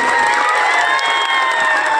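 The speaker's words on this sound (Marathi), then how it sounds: "बाळासाहेब आंबेडकरांसाठी एकदा जोरदार टाळ्या वाजवून" A large crowd at a political public rally in Beed cheers loudly and continuously for Balasaheb Ambedkar, shouts and whoops merging into a dense roar.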